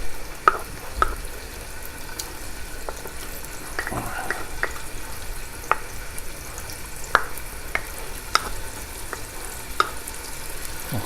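Mashed cooked meat mixture sizzling in hot olive oil in a pot for Sunday sauce, a continuous close crackling fry punctuated by periodic sharp clicks and scrapes of a spoon stirring, no voices.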